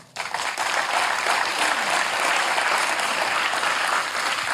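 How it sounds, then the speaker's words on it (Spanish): A church congregation breaks into loud, sustained applause after a brief pause, dense clapping holding steady throughout. "Démosle un aplauso al Señor."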